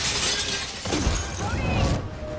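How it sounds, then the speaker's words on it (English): Glass windows shatter as robots burst through: a loud, sustained crash of breaking panes with scattering debris filling the whole moment. "Legionnaire robots burst through the windows into the room."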